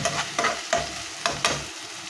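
Onion, garlic and ginger fry in a pan for a curry, with a steady sizzle broken by several short scraping stir strokes, close and fairly loud, no voices.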